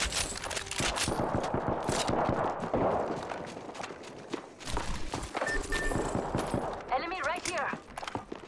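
Rapid bursts of video game gunfire crackle through a busy battle scene, mixed with footsteps and running, loud and continuous, with a voice talking over parts of it.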